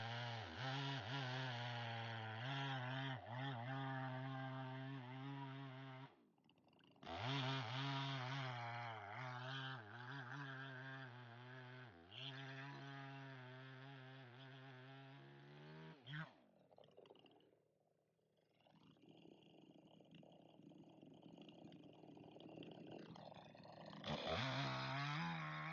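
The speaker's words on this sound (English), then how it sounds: "I'm going to position the chainsaw in the middle and cut right down the middle." A chainsaw cuts down the middle of a log for a wood bowl turning blank, its engine droning loudly and shifting pitch under load, with brief pauses and a rougher stretch before revving again.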